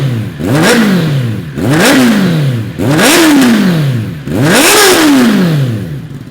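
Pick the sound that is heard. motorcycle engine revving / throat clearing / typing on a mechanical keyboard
motorcycle engine revving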